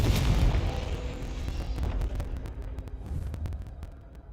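A Confringo blast spell in the Hogwarts Legacy video game explodes with a heavy, booming burst that rolls and crackles, followed by scattered sharp pops and debris as it fades over a few seconds.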